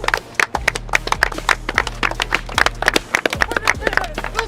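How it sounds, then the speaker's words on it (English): Football players clapping in rhythm after practice, sharp hand claps repeating in quick succession over a low steady hum, with voices mixed in. "Come back in here clapping."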